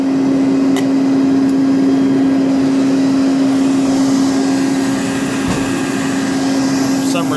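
A 1962 Kenmore Whispertone 90 vacuum cleaner runs continuously, a loud, even close drone with a strong steady motor tone and airy hiss, unbroken for the whole stretch.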